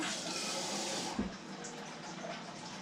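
About half a cup of water pours from a tap during home meal prep, a steady close hiss and splash for about a second before fading into a softer trickle, faint overall.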